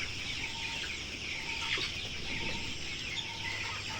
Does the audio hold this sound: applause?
no